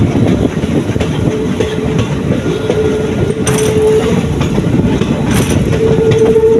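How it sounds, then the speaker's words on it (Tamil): The Chennai Egmore Express climbs a hill section near Punalur, with a rear banker engine pushing. The train gives a loud, continuous rumble and clatter, and thin wheel squeals rise now and then. "இந்த ஹில்ஸில் இப்போ ஏறிட்டுருக்கு ட்ரெயின்"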